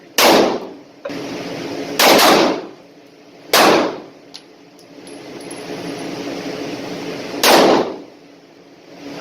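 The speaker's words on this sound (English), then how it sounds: "Three shots, 158 grain 357 Magnum arms core." A ported .357 Magnum revolver with rubber grips fires 158-grain Armscor rounds at about 15 yards: loud, sharp blasts spaced a second or more apart, each followed by a short decay into quiet outdoor air.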